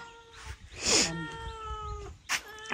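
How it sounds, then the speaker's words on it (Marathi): A cat with a sore, injured leg, fed only on milk at a village home, lets out one drawn-out, wavering meow close by, followed by a short second cry near the end. "आणि ही मांजर आहे."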